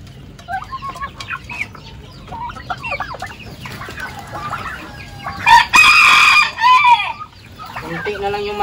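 Chickens cluck in a busy chorus nearby, then a rooster crows loudly and clearly in one long call, followed by more clucking.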